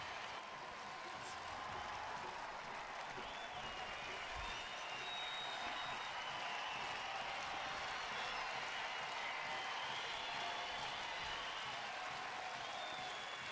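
Sunday afternoon baseball crowd of more than 15,000 at a game in Cleveland, a steady broad roar of applause and cheering from fans on their feet that holds at an even level throughout, with no distinct voices rising above it.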